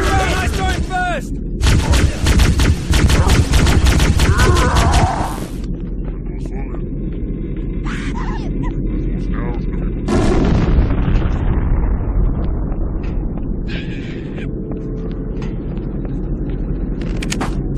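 Rapid gunfire and heavy explosions in a Halo video game battle, with dense bursts of shots early, then booming blasts and rumbling aftermath, loud and close, with voices shouting amid the combat.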